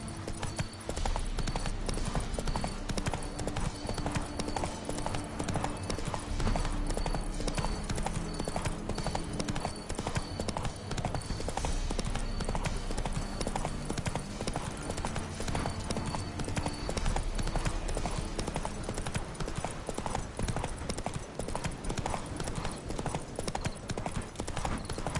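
Horse Roach from The Witcher 3 trots with steady, loud clip-clop hooves throughout, close and continuous, with faint game ambience beneath.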